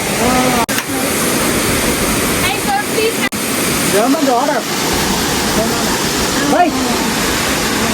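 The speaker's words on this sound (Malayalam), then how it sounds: "ഇതാണ് കേട്ടോ നമ്മുടെ കല്ലാർ വെള്ളച്ചാട്ടം" A loud, constant roar of the Kallar waterfall near Ponmudi, Thiruvananthapuram, fills the scene, with people talking intermittently over the rushing water.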